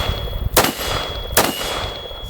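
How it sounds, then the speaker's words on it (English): Two sharp, close shots ring out from a Sig Sauer 5.56 Classic SWAT rifle with a 16-inch barrel, spaced under a second apart, each a crisp crack with a short metallic tail. "Such a soft shooting gun."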